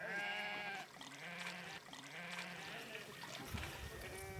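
Sheep bleat in a high mountain pasture in summer, with several overlapping wavering calls over steady outdoor background noise. The calls carry on through the whole stretch at moderate, fairly distant volume.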